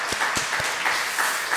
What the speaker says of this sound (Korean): 우리 청년들을 위해서 우리 박수 한번 하겠습니다.